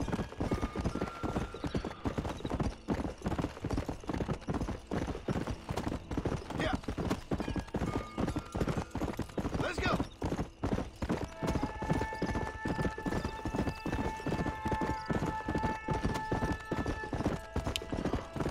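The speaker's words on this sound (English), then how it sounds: "A horse. What was that? Oh, it's a horse." Continuous rhythmic clip-clop of horse hooves at a steady walking pace in the video game Red Dead Redemption, close by, with occasional faint tonal game sounds layered over it.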